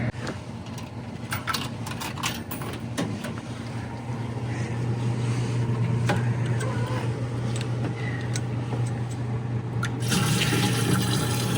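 Water runs steadily into a jug at a coin-operated vending machine in Quartzsite, Arizona, a continuous close rushing fill with a low hum beneath, growing slightly louder and fuller toward the end.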